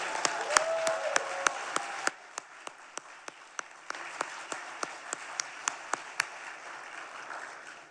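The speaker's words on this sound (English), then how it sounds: "so let's give them another round of applause" An audience at a city's State of the City address applauds, a thin scattered clapping that fades after the first couple of seconds, leaving a few distinct claps spaced out and repeating in a loose rhythm.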